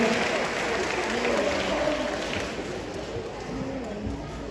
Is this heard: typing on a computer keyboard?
no